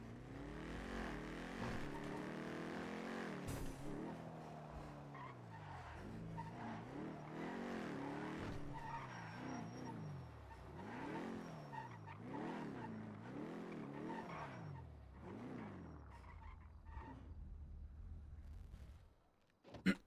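A car in the NoPixel roleplay video game, running without tires, brakes and skids with long braking distance; a loud, continuous game engine revs up and down repeatedly, with scraping skid noise, before cutting off abruptly at the end.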